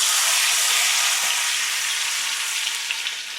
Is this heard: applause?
no